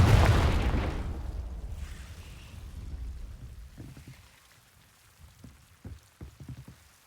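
A Confringo blasting curse in Hogwarts Legacy lands as a loud, booming explosion that decays into a rumbling, crackling tail. Scattered small debris-like taps follow.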